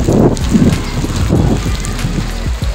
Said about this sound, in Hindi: बारिश का आगमन एक बार फिर से हो चुका है